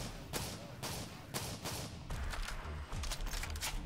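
Shotgun blasts in Black Ops 3 Zombies on a Bendy and the Ink Machine map: loud, booming shots fired in quick succession about every half second, dense and close, over continuous game noise.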